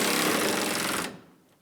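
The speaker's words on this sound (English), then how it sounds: "Snug down all the bolts on the headlight." A power tool drives bolts snug on a 2003-2008 Honda Pilot headlight, a loud, dense rattling burst for about a second that stops abruptly, leaving faint quiet.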